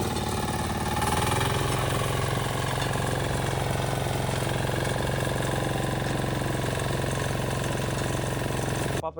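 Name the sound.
13HP all-in-one power weeder engine running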